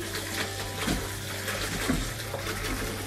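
Fresh coriander leaves get washed in water several times, a steady close sloshing and splashing with a few slightly louder swishes as the leaves are moved around.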